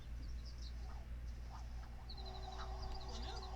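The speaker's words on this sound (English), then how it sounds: "You hear the birds." Birds in The Sims 4 Cottage Living, faint chirps and honking calls scattered over a steady low ambient hum, with a brief higher whistled run partway through.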